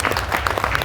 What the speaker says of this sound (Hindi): तालियां बजाइए प्रभु के लिए।